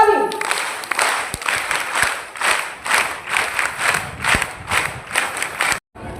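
Applause welcomes a speaker at a rally supporting Mitanin health workers, with a crowd clapping in pulsing waves and voices mixed in before an abrupt cutoff near the end.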